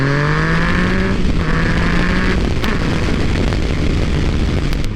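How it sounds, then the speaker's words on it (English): A 2014 Yamaha FZ-09 motorcycle engine and exhaust roaring loud and close, revving up in rising pitch sweeps, dropping briefly, then climbing again into a rough sustained drone with sharp pops. "that exhaust sounds really good"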